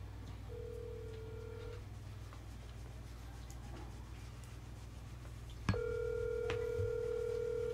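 Telephone call being placed: a short steady ringback tone, a pause of quiet hiss over a low hum, then a click and another longer continuous tone, faint and close.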